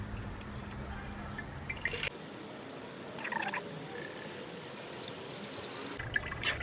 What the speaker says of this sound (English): I'll let it strain a little faster.